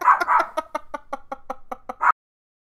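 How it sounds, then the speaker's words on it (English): A dog named Fractal lets out a run of short, gruff barks and growling yips, close and fairly loud, in a rapid uneven series that ends abruptly in silence. "Fractal's just growling at I don't even know what."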